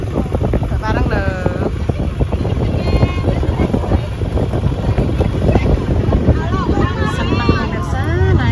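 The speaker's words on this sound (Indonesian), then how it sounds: "Seneng pemirsa naik perahu." Riding in a small boat on the water near Surabaya, with constant wind buffeting the microphone over a steady low motor rumble and people chattering throughout.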